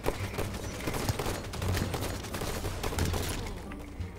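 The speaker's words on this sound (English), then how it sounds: "Let's see how good your shot is with an AR." Assault rifle fire in the video game Halo 5: dense, rapid bursts of gunfire rattle continuously, loud and close throughout.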